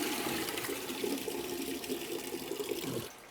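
Water gushes steadily from PEX plumbing test outlets into containers, a loud continuous rushing flow that cuts off abruptly at the end.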